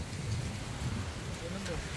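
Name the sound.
heavy rain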